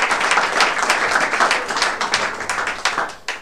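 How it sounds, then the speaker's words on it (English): Audience applause at a public health awards ceremony, a steady dense patter of many hands clapping throughout, fairly loud and close with no talk over it. "let's have a round of applause"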